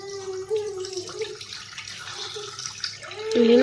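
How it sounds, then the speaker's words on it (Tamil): Water poured slowly into a home fish tank prepared with rock salt, a gentle trickling and gurgling stream with a few splashy surges, close by and fairly soft, with no voices. "மெதுவாக தண்ணி ஊற்றிக்கலாம்"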